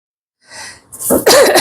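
A sharp intake of breath followed by a single loud, explosive cough burst, close to the microphone.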